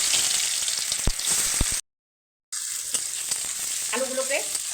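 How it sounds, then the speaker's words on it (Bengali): Potatoes fry in hot oil in a wok with a steady, loud sizzle and crackle. The sizzle cuts out briefly, then resumes with faint stirring clinks. "আবার আমি কড়াইয়ের তেল গরম করে নিয়েছিলাম এবার আলুগুলো আমি ভেজে নিচ্ছি"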